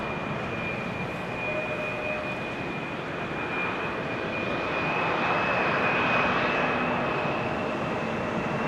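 Jet airliner at Amsterdam Schiphol Airport producing a steady, distant engine roar with a faint whine that gradually swells, heard alone in open outdoor air.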